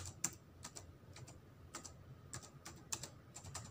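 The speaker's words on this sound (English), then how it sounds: "this is called typing" Text is typed on a computer keyboard in a classroom: irregular light key clicks in small clusters, some taps sharper than others, close and fairly quiet with no voices.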